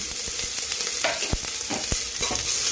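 Chopped onion sautéing in hot oil in a pressure cooker, a steady loud sizzle broken by several sharp scraping strokes of a spoon stirring against the metal pot.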